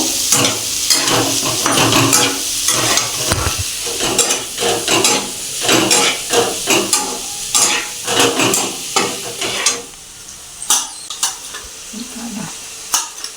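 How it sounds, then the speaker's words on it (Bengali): Spiced potatoes sizzle loudly in a pan for an okra curry, with rhythmic scraping of a spoon stirring them, the frying hiss easing toward the end; no voices. "আলুটা আর একটু ভাজা হবে তারপরে ভেন্ডিটা দিয়ে কষাবো"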